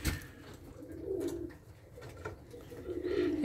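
Soft, low cooing of racing pigeons nearby, a few drawn-out rolling coos separated by quiet pauses, with faint background rustle.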